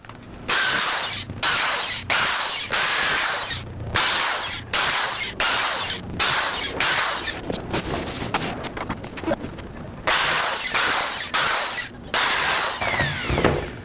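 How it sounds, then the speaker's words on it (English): A power drill bores 3/8 inch holes in plywood for window shutter hangers, a loud close series of rapid bursts that start and stop many times, with a ragged, grinding tone throughout. "Now that we've finished drilling the holes"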